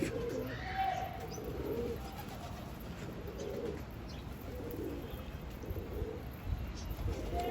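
Pigeons in a loft cooing steadily in repeated low murmuring bursts, close and continuous, with a faint low rumble underneath.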